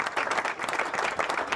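Applause from a radio program audience forms a steady, dense wash of clapping that holds at an even level throughout, with no talk over it.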